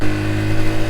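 Yamaha motorcycle engine with a loud, untuned aftermarket exhaust drones steadily and close by at constant revs during a night ride, a rough low rumble with no talk.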